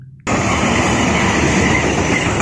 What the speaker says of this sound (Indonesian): ini kereta api Ciremai ditarik oleh lokomotif dinas seri CC206 1352 Depo Induk Cipinang